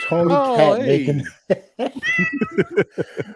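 A cat meows backstage before a sports talk show, a few drawn-out, wavering cries up close, followed by people talking.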